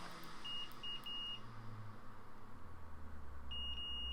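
A multimeter set to continuity mode gives short beeps during an iPhone 13 Pro Max board repair, a few clipped tones and then a longer beep, over a steady background hum.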